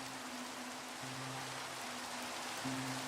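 Steady rain falling in the Minecraft video game, a constant soft hiss of downpour with a faint low background tone running beneath it.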